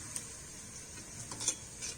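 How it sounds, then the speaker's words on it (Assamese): Local chicken meat fries in a pan over a wood fire, a soft steady sizzle with faint stirring scrapes, quiet and without talk. "এয়া কুকুৰা মাংস ভাজিম এতিয়া"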